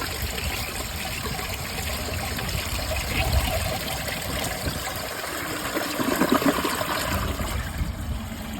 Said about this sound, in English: Now I'm gonna do the flush.